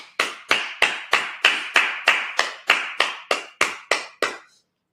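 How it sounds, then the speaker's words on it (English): A church congregation at a Sabbath service claps in unison, about fourteen crisp, evenly spaced claps in a steady rhythm that stop cleanly, heard alone without talk. "Clap it up."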